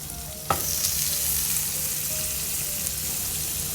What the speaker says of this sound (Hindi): इसमें अगेन हम थोड़ा सा बटर डालेंगे